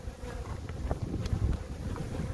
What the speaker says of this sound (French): Le vent qui se lève là, franchement, c'est...